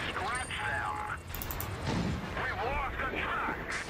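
Heavy tank cannon shots in World of Tanks boom in a couple of broad blasts under constant loud talking, with crashing impact noise mixed in.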